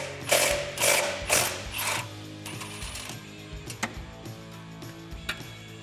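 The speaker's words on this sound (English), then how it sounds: "I'm going to use a 13mm ratcheting wrench to remove the side 13mm bolt" A 13mm ratcheting wrench works a bolt loose on a Jeep Wrangler JL, giving several quick ratcheting clicks in bursts followed by sparse metallic ticks and clatter, close and fairly quiet.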